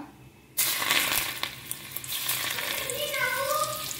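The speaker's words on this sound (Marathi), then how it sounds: "तेल न्ही हांवें बरें गरम करून घेतला. लसूण घालता," Garlic drops into hot oil for a tadka and starts a sudden loud, close sizzle that keeps crackling steadily, with a few light clinks of stirring and no talk.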